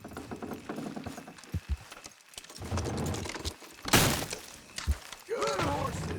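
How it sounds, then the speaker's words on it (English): Horses in Red Dead Redemption 2 pull a wooden structure down with a loud crash and splintering clatter midway, amid hoof clops and thuds, while voices talk over a busy game soundscape. "Horses will pull it clean down."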